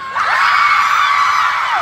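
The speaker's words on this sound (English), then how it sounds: "Everybody scream!" A large crowd of fans at a K-pop concert event screams and cheers loudly and continuously, a dense wall of high-pitched shrieking and whooping that swells in and holds without letup.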